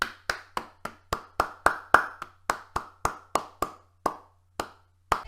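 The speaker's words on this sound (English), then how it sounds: "let's give a round of applause to Pochetino" Single pair of hands clapping slowly and deliberately in applause for Pochettino, about fifteen sharp, separate claps at a loose, slightly slowing rhythm, close and clear over a faint low hum.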